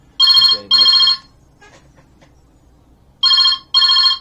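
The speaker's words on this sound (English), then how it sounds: "Apologies for the phone that just rang now." A phone rings twice in short electronic bursts, goes quiet for a moment, then rings twice more, loud and close.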